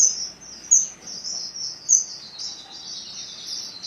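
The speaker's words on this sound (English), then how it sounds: "there's a couple birds in here." Strawberry finches kept on a sun porch give high, thin chirps and twittering calls, repeated in short bursts over quiet background hiss, fairly close.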